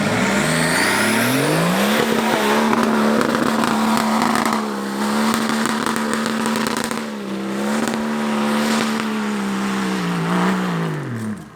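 An off-road car climbs a slippery muddy hill, its engine held at high, sustained revs for several seconds, wavering and briefly dipping and rising, loud and close as the wheels spin and throw mud.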